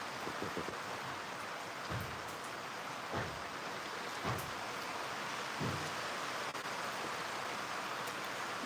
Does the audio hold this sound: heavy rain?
yes